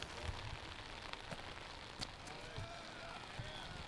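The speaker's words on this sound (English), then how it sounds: "With this rain." Steady rain hisses down across an outdoor winter disc golf tournament course, a constant near wash of patter on wet ground and gear, with commentators' voices faintly beneath it.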